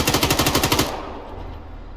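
Rapid automatic gunfire in the military video game Arma 3: a loud, close burst of about nine evenly spaced shots, then cut off into a quiet, low rumbling tail.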